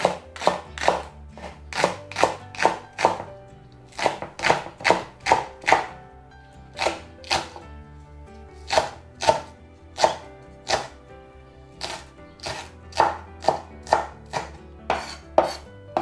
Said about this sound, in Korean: 파는 잘게 썰어주시고요.